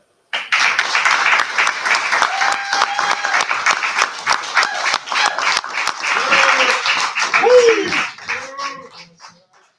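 An entertainment showcase audience breaks into loud, sustained applause for the next performer, dense clapping with cheers and shouted voices rising near the end before fading out.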